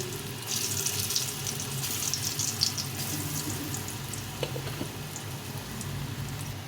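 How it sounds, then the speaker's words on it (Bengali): Green banana kofta fritters deep-fry in hot white oil, making a dense, continuous bubbling hiss close by with occasional small pops, and no voices. "এখানে সাদা তেল নিয়েছি এই তেলের মধ্যে এখন ভেজে নেব লাল লাল করে ভেজে নেব"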